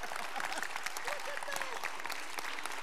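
A congregation at a Shabbat evening service gives a standing ovation: dense, sustained applause of many hands clapping at once, fairly distant and even throughout, with a few voices mixed in.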